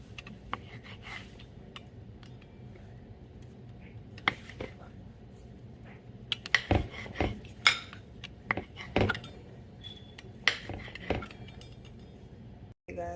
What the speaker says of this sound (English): They say you can use a pizza cutter, so that's what I'm going to use to make it easier to cut into your 4 pieces